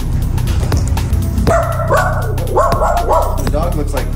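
A small dog yips and barks in a few sharp bursts over a steady loud background of voices and noise.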